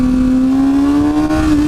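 A 2013 Kawasaki Ninja ZX-6R 636 sport bike engine whines smoothly and steadily, its pitch climbing gently as it accelerates, loud and close as if heard from the rider's position.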